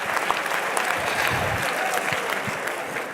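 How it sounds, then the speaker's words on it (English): Audience at a European political party election congress applauding in a steady, full burst of clapping from a large crowd in a hall. "Let's clap hands for our Polish brother who did the utmost for Poland and for Hungary as well."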